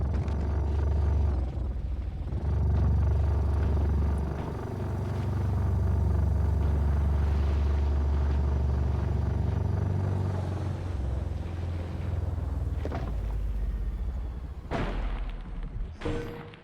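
Vehicle driving in the video game Scrap Mechanic, a low rumbling engine purr swelling and easing continuously, ending with a short clatter.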